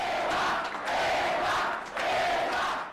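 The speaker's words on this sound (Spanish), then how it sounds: "Vitoreada en varias ocasiones por los maestros que acudieron al lugar de la cita, Gordillo Morales no respondió preguntas" A large crowd of teachers cheers and shouts in loud swelling waves, three surges of massed voices roaring at a public gathering, fairly close and sustained.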